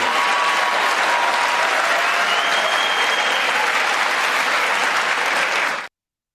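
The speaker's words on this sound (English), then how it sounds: "gets Republicans to stand up and clap and applaud for keeping Social Security and Medicare" Republican members of Congress give sustained, loud, dense applause that holds steady for about six seconds, then cuts off abruptly.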